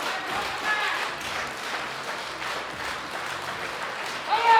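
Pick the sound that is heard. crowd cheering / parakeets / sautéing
crowd cheering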